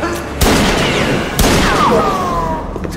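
Two loud, sharp gunshots from a Mark IV pistol ring out in a German horror radio drama, spaced about a second apart, each followed by whining ricochets and lingering echo.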